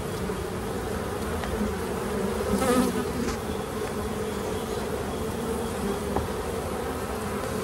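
Dense, steady buzzing of honeybees at an open hive during a queenless colony inspection, close and continuous with a slight swell in the middle, no voices.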